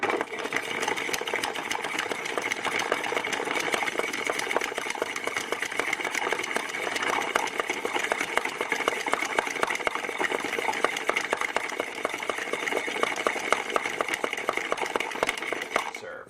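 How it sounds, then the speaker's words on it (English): A gin martini is stirred over ice in a mixing glass, making a rapid, even rattle and clink that continues for the whole stretch at close range. "we are just going to stir until this gets nice and cold"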